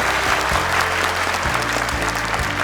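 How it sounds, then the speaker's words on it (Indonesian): A studio audience at an Indonesian Quran memorization competition show applauds a contestant group, steady dense clapping over a low repeating musical hum underneath. "Boleh tepuk tangan untuk kelompok Wahid"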